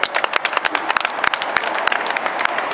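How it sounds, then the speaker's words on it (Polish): Lively applause greets a new shooter at a Polish ceremony, a crowd clapping in quick, sharp, irregular bursts, close and loud throughout. "Przywitajmy oklaskami nowego strzelca"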